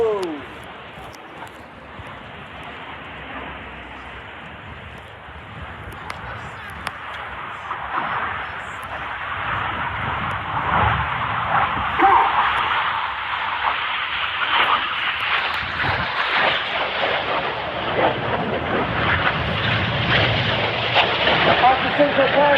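Red Arrows display jets at the RIAT 2023 air show make a low rushing roar that builds into a loud, broad jet blast as they sweep past at over 450 miles per hour, under steady announcer talk.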